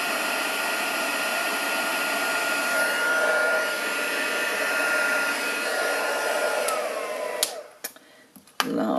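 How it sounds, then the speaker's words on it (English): A heat tool blows hot air onto clear embossing powder, a loud steady whir with a rough rushing tone that holds for about seven seconds, then cuts off into short bumps and clicks. "So I'm just going to heat up my heat tool"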